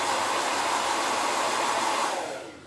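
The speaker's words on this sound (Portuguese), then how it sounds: "Esse passo do secador não é demorado, tá?" Hair dryer blowing steadily up close on hot-glued hair of a handmade black cloth doll, a loud continuous airy roar that begins to fade in the final moments; no voices.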